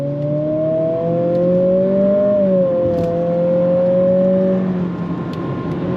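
A 2025 Acura ADX with all-wheel drive accelerates under throttle, its engine note a loud, steady drone rising and shifting in pitch from inside the cabin before easing off near the end.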